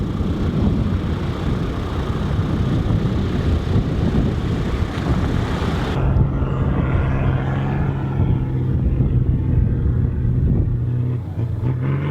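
A couple of cars drive along a dirt track in the Simpson Desert outback, heading west from Birdsville. Their engines roar loudly up close and then ease into a lower, fading rumble as they pass by.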